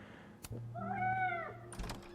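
A single drawn-out cat meow in Life is Strange Double Exposure, fairly clear and mid-distance, with faint knocks or thuds just before and after it.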